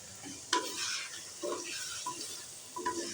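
Chopped onions and tomatoes frying in a pan for a vegetable pulao, with a soft steady sizzle and a few distinct clinks and scrapes of a spoon stirring against the metal.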